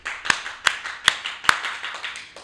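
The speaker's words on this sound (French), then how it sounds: "On peut faire une bonne main d'applaudissement pour Xavier." A handful of sharp, close hand claps land about every 0.4 seconds, four distinct strikes followed by a few softer ones that fade, applause for a guest on a car-build show.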